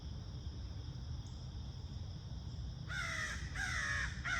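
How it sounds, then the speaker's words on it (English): A bird squawks outdoors with harsh, crow-like caws: two loud bursts near the end, standing out over a steady hiss of background noise. "Oh, there's a squawking bird there."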